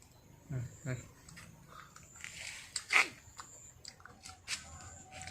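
Freshly picked, unwashed Ninel grapes are bitten and chewed near the mouth, with a few soft crunchy bites and one louder juicy crunch mid-way, mixed with people talking.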